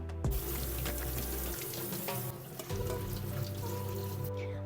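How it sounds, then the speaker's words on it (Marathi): Tap water runs steadily into a sink as spinach is washed, with the flow pitch shifting as the stream hits leaves and water; close, no talking. "पालक आता निवडून झालाय स्वच्छ धुवून घेते मी आता"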